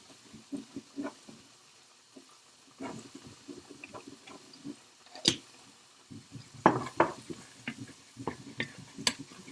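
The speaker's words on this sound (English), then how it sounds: "Now that they have been frying a bit." Salted mushrooms frying in a pan for a risotto, heard as quiet, sparse crackles and soft ticks with occasional louder sizzling pops, and no one talking.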